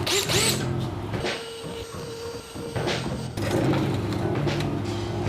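Loud, whining power drill running a step bit through a computer case in sustained bursts with brief pauses between, close to the microphone, no talking.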